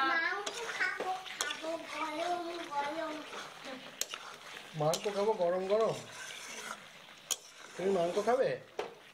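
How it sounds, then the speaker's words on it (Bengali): Pan-fried chicken curry with yogurt and black pepper is stirred in a pan, with scattered clinks and scrapes of the spoon under a voice that keeps talking over the cooking. "তারপরে আবার ভালো করে নাড়াচাড়া করতে থাকছি।"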